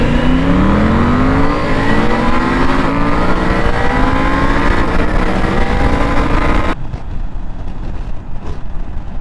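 A Triumph Tiger 900 motorcycle fitted with an aftermarket exhaust revs loudly close by, its engine note sweeping up and down in repeated rising pulls before cutting to a low idle near the end.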